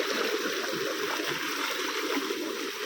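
Water from a well pours and splashes steadily nearby, a continuous rushing gush with no voices.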